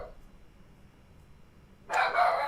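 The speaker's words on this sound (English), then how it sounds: "Hermes, will you stop barking?" A dog barks in a sudden loud burst near the end, following about two seconds of quiet room tone.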